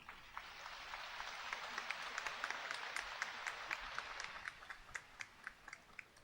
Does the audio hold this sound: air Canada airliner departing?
no